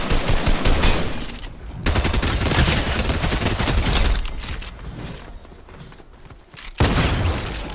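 Fortnite gunfire, dense bursts of rapid automatic fire and heavy shots in repeated loud volleys with brief gaps between them, close and intense.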